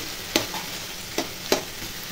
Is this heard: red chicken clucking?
no